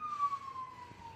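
A siren wails outside in a parking lot as one sustained tone that slowly falls in pitch, moderately loud and heard at a distance, with no talk over it.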